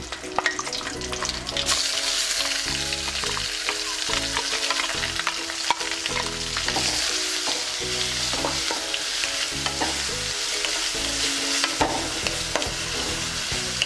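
Coarsely ground onion paste frying in a pan for a Tamil-style cauliflower gravy, a loud, steady sizzle with stirring scrapes throughout, close up and without voices.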